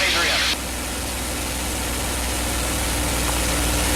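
Steady drone of a P-51 Mustang's piston engine in flight, throttled back to 2,300 RPM, heard from inside the cockpit as a dense, even roar with a brief brighter burst at the start.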